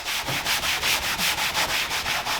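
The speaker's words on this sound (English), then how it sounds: "just kind of scuff it so it has some place for the paint to stick" Rapid back-and-forth scuffing strokes across a Sea-Doo jet ski's vinyl seat pad before painting, about a dozen even, rhythmic rasps, close and steady, with no voices.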